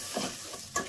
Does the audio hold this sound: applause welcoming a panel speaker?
no